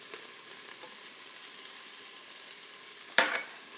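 Onions with black pepper, salt, paprika and cumin fry in an Instant Pot for butternut squash chili, giving a soft steady sizzle with a brief louder clatter near the end.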